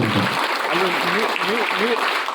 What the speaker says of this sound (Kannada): ಅವರಿಗೆ ಆತ್ಮೀಯ ಸ್ವಾಗತ ಸುಸ್ವಾಗತ ಜೋರ್ ಚಪ್ಪಾಳೆಯಿಂದ